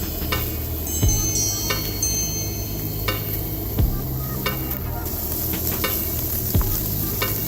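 Cold-smoked meat sears with butter on a Weber kettle grill, giving a steady close sizzle and crackle with a few sharp metallic clicks scattered through it.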